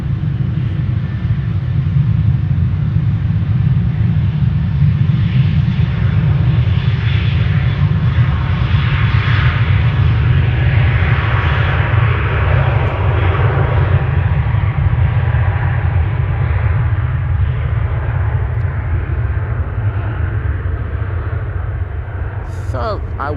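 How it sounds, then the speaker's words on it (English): A Pilatus PC-12 turboprop taxis toward runway 22 on the Oostbaan at Amsterdam Schiphol, giving a steady low rumble with a faint higher whine above it that holds evenly at a distance for the whole stretch. "So there's a PC-12 on the move to runway 22 to take off from the Schiphol Oostbaan."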